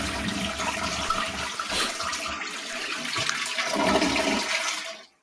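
A toilet flushes in one long, loud rush of water that holds steady for about five seconds, swells slightly near the end, then cuts off abruptly into silence.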